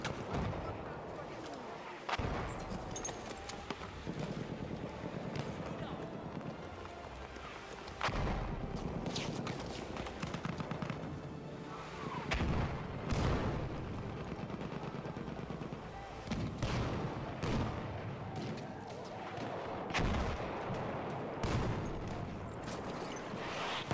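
Video game artillery and gunfire keep up a continuous barrage of repeated booming blasts and bursts for the whole stretch, loud and dense, with voices talking in the mix.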